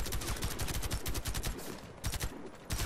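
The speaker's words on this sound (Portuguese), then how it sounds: "Tem um cara me atirando aqui de baixo." Automatic gunfire from the Warface video game rattles in rapid, loud bursts with brief pauses between them, close and dominant over the game's background noise.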